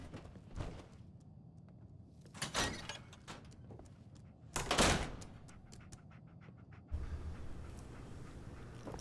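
A door opens in the Fallout 4 video game with a few mechanical hisses and thumps. Two strong bursts are spaced a couple of seconds apart over a quiet rumbling background, then a steady hum sets in.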